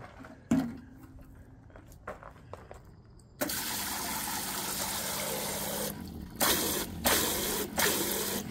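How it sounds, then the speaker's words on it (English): Water spraying from a teardrop trailer's sink spray port, with a few clicks and knocks before a sustained hissing spray that breaks into short bursts toward the end. "Let's check out the spray port"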